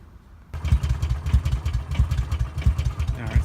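A Kawasaki Mule 610 utility vehicle engine idles roughly after being hydro-locked, flooding out from a leaking needle and seat, with a low, lumpy pulsing throb starting after a brief quiet moment and continuing steadily close by.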